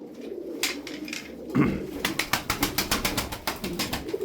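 Tumbler pigeons cooing close by, a quick run of rhythmic pulsing coos following a brief flutter, with no talk.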